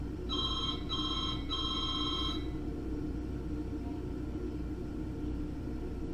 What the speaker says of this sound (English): Yeah, that phone rings all the time.